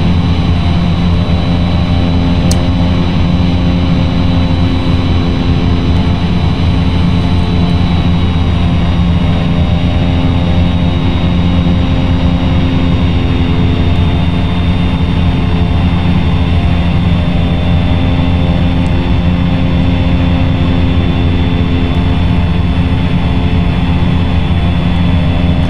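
Cessna C208B Caravan single-turboprop airplane in the X-Plane 10 flight simulator, a steady loud engine drone with a constant tonal whine held evenly throughout, no talking.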